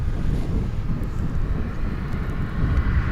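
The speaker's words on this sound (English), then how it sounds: "That'll be a CRJ 700." A CRJ 700 regional jet landing on runway 18 left at DFW airport: a steady, loud, broadband jet roar holds throughout with wind buffeting on the microphone, and no voices are heard.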